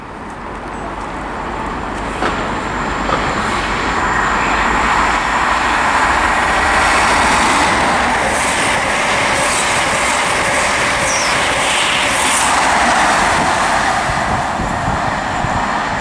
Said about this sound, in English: passing through now, I've got another EMR HST heading to Nottingham from London St Pancras.